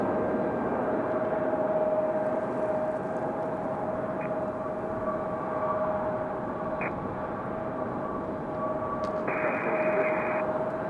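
A Boeing 737-800 airliner arriving from LAX at Raleigh-Durham airport makes a steady, broad jet roar with a sustained tonal whine, loud and constant throughout, with a few faint beeps over it.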